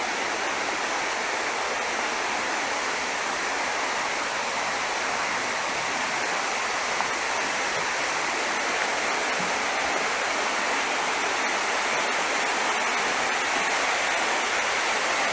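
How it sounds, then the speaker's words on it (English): Arekkal waterfalls rushing, a dense, steady roar of falling water that fills the whole stretch at constant loudness with no voices. "let me show you the waterfall"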